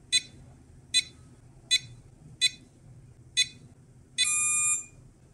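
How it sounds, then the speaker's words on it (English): A drone motor controlled by a RadioLink AT10II transmitter gives five short evenly spaced electronic beeps, then one longer steady beep confirming unlock, clear and alone over a quiet background. "we hear the second long beep when the EPA value is set to 110"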